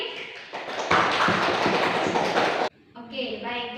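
Classroom applause during a biology micro-teaching lesson, a dense burst of many hands clapping for about two seconds after a short lead-in, then cut off and followed by a teacher talking.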